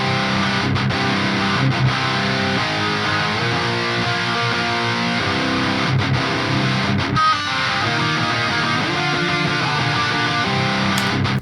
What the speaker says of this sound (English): Basic rock guitars, power chords, nothing fancy, works great.